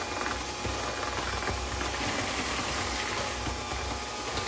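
An electric stand mixer churns sugar for lemon chess bars at low speed, giving a steady, loud mechanical whir and rattling grind that runs without a break for the whole stretch, with no voices.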